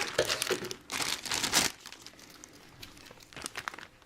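A plastic bag of AMT Corvette model kit parts crinkles and rustles in bursts as a 1986 Boy Scout pocket knife cuts it open, close and fairly loud, with quieter handling between.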